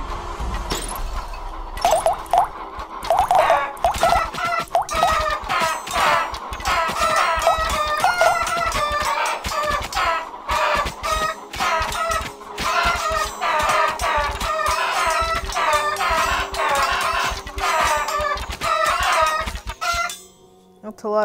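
Chickens clucking in the mobile video game Undead Horde, a dense, busy flurry of squawks and clucks running nearly the whole time, mixed with sharp impact and combat sounds from the game.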